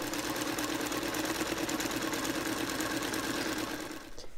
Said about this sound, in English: I'm going to sew here, here, and here.